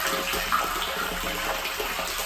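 Stream water pours steadily from a pipe into a livestock water tank, making a loud, continuous gushing splash close by with no pauses and no talking.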